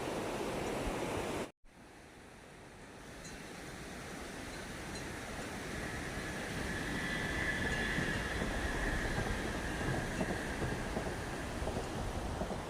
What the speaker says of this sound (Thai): รถไฟเข้าถ้ำทุกคน